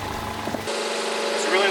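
Sailboat inboard engine running with cooling water flowing from its exhaust, a steady low mechanical hum and splashing wash that shifts in character partway through, with the lazarette open.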